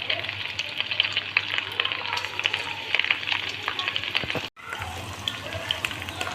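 Chicken pieces sizzle and spatter steadily in a wok of hot oil, a loud, continuous crackling frying sound close by, with a brief gap near the end.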